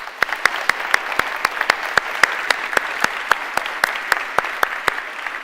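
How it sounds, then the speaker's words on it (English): An audience at a climate politics forum gives a round of applause, a steady wash of crowd clapping underneath one loud, close clapper striking a fast, very regular beat throughout. "can we give them a quick round of applause?"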